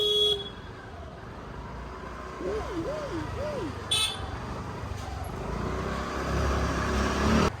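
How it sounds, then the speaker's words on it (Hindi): A car horn sounds once from inside a moving car on a city road, a wavering toot over steady traffic and road noise, with a few sharp clicks after it. "हॉर्न मारना चाहिए, हॉर्न मारो।"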